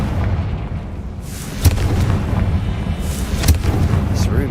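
A Confringo blasting spell goes off in the Hogwarts Legacy video game, with two sharp booming bursts over a low rumbling game background.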